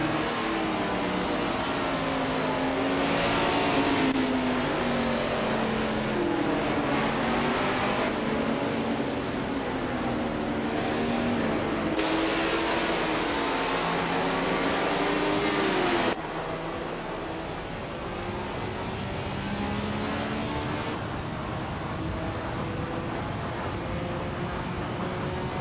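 Engines of vintage 1967 Nissan R380A2 race cars in a racing video game, a steady layered drone with rising and falling revs and gear changes, loud and continuous with no voices.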